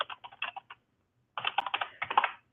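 Someone types code on a computer keyboard, giving a close, quiet run of rapid key clicks, a short pause, then another quick burst of keystrokes.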